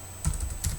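Several computer keyboard keystrokes tapped close up while typing a short message into a text file, two small clusters of clicks over a faint steady hum, no voices.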